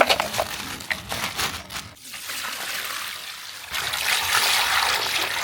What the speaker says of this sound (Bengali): মাংসগুলো ধুয়ে নেওয়ার জন্য ঢেলে নিচ্ছি